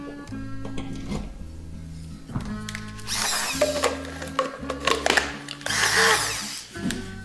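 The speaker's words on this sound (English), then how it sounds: "I gotta get my hand blender" A hand blender whirs in bursts while mashing wet pizza ingredients in a kitchen, its motor rising and falling in short runs between quieter pauses.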